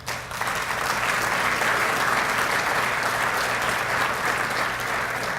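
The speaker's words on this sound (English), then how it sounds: "Let's give the gold sponsor a round of applause" An awards-event audience applauding sponsors, a dense, even wash of clapping from many hands that stays steady and loud for the whole stretch.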